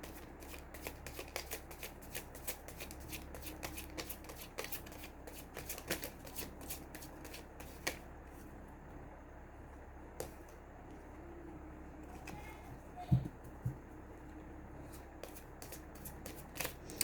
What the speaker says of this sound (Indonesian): saya kocok kartu ya